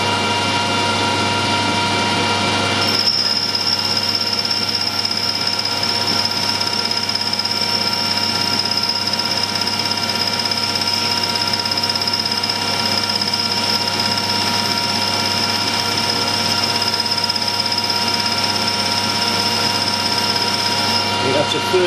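A machine tool cutting a test bar with the feed worked by hand: a loud, steady machining drone with a sustained high-pitched whine that starts after a short lead-in and carries on unbroken.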